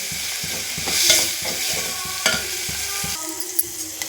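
Onion pieces fry in hot oil for tempering greens, a close, continuous sizzle broken by rhythmic scraping and stirring strokes of a spoon against the pan.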